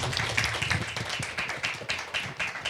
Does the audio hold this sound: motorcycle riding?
no